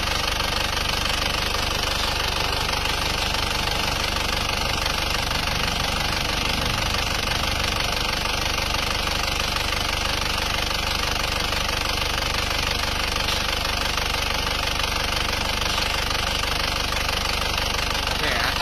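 A steady, rumbling rebuilt engine with new cylinder liners idles continuously up close, with a rough knocking vibration and no break in the noise.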